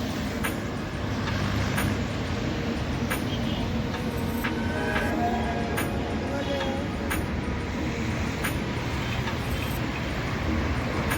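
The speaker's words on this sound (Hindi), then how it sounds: "यह है ट्रेंडिंग हाईवे नंबर 48 जयपुर को गुरुग्राम से जोड़ने वाला, और यहाँ पे गाड़ियों को कुछ इसी प्रकार की भीड़ लगातार ही।" Heavy traffic streams steadily along National Highway 48, the route linking Jaipur and Gurugram, forming a constant roar of engines and tyres with vehicles passing close by and no pauses.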